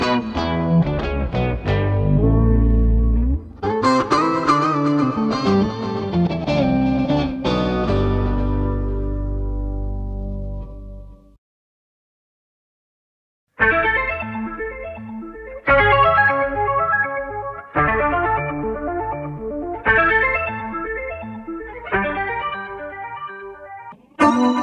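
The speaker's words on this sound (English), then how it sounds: "Roxsyn is an app that gets your guitar sound and transforms it directly into a synth sound." An electric guitar turned into synth tones by the Roxsyn app on a Quad Cortex, with sustained layered chords, then a brief silence and a series of punchy, evenly spaced synth stabs.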